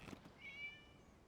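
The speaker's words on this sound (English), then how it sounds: "It was just a cat." A cat in a video game lets out a single short, faint meow, heard alone against quiet background ambience.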